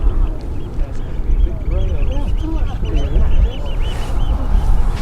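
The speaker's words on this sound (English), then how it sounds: "What sort of bird is that, Julie?" A bird calls with repeated honking, goose-like cries over a steady low rumble and background noise, outdoors beside the RAF Waddington airfield, moderately near and recurring throughout.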